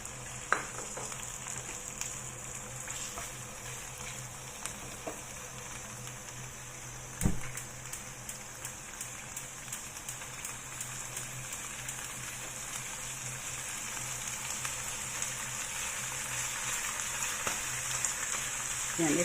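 Chicken liver frying in a pan, a steady dense sizzle and crackle running throughout at close range, with one sharper clatter partway through.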